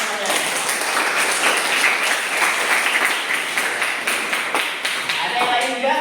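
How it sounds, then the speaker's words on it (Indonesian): Sustained applause from a classroom audience for a student group that has just finished presenting, dense steady clapping filling the whole stretch with a few louder claps standing out. "silakan beri aplaus kepada temannya"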